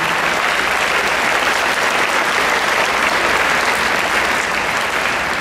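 Parents on a graduation committee receive a loud, sustained round of applause from a crowd at a 5th grade elementary school graduation, continuous dense clapping with no talk over it.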